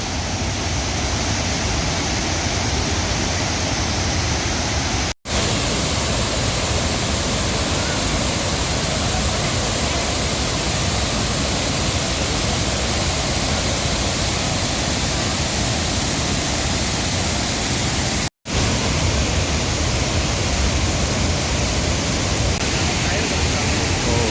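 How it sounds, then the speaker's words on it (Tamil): Shenbagadevi waterfall pours in a loud, unbroken roar of rushing water, heard close by and steady throughout, with two sudden momentary dropouts. "எவ்வளோ ஃப்ரெஷ்ஷாக தண்ணி போகுது பாருங்கள். இதுதான் செண்பக தேவி ஃபால்ஸ்."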